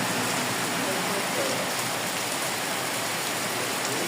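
Steady rain falls in Uttara, Dhaka, a dense even hiss of drops striking surfaces, constant and moderately loud with no pauses.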